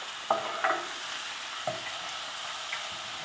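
Butter sizzling in a pan on low heat with bacon-wrapped filets, a constant soft frying hiss punctuated by a few sharp scraping clinks of a utensil stirring against the pan.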